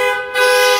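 A single loud car horn blast, sharp and close, sounding briefly after a short dip in the noise.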